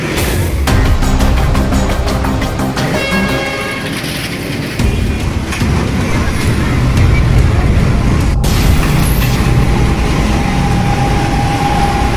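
A truck rolls past during a police-led clearing operation on a Tondo street in Manila, its heavy engine rumbling loudly and steadily through dense surrounding street noise, with faint voices in the background.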